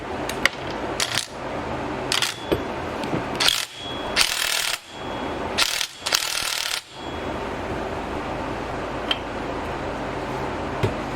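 A ratchet wrench works a nut off the end of a 2005 V6 Mustang front suspension part, giving bursts of quick metallic clicking between pauses and small clinks, close and moderately quiet.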